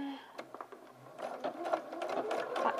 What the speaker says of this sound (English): on the armhole I'm going to start from the shoulder and sew all the way to the side seam